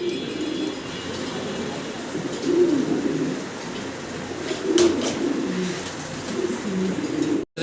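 A pair of fancy Gorra pigeons give soft, low cooing calls in a couple of rolling bursts over a steady background hum, close by with no talk.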